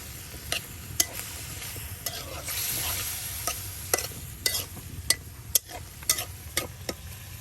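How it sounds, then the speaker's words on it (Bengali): Potatoes and vegetable stems are stirred with spices in a sizzling pan for a village-style chepa shutki chorchori from Sherpur, with sharp spoon scrapes and clicks landing every half second or so over a steady, close fry. "এখানে আলু ডাটা সব কিছু দিয়ে মশলার সাথে মিক্স করে দেওয়া হইতেছে।"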